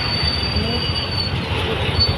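A train at Secunderabad junction grinds along with loud, continuous wheel squeal and a sustained high screech over rumbling rail noise throughout.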